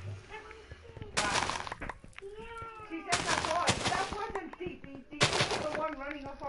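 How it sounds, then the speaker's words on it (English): Explosions from the Minecraft video game, with three loud broadband booms about two seconds apart, each followed by crackling debris, heard under voices talking. "you can hear the explosions in the background!"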